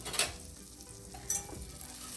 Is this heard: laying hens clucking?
no